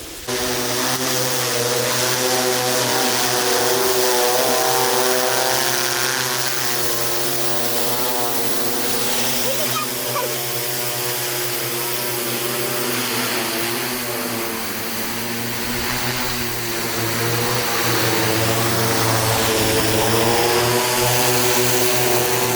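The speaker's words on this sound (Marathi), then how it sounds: "ड्रोन मार्फत फवारणी चालू आहे." A steady, loud droning buzz of a multirotor agricultural drone hovering overhead while spraying a sugarcane field, its tone sustained and even throughout with slight shifts in pitch.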